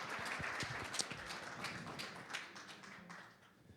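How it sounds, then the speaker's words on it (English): Applause for the panelists at a conference on digital partnerships, a dense, even wash of many hands clapping from an audience heard at a moderate distance, fading slightly toward the end. "please give them a big round of applause, everybody"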